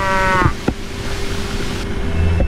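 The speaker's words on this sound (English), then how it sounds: "Bull mooing." A bull moos in a mystery detective video game, a low drawn-out bellow that holds steady and fairly loud, with a couple of sharp knocks early on and a humming background.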